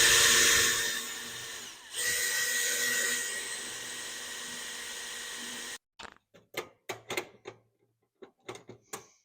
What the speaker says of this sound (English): So if I take my time and drill, it should be right.